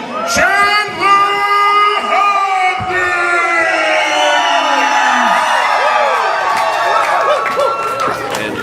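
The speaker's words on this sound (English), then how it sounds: "Dirty Andy Dalton hearing it from the crowd" A live event crowd roars with loud overlapping shouts, whoops and yells aimed at a player, forming a dense wall of voices up close with no single speaker standing out.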